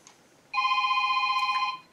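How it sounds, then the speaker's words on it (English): A phone rings once inside an abandoned mansion, a steady electronic warbling tone lasting just over a second after a brief quiet moment. "phone's ringing"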